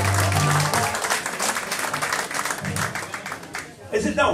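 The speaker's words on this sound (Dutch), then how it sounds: "applaus voor Waarschuwing" A crowd applauds loudly and continuously for several seconds, with brief talk and murmurs mixed in near the end.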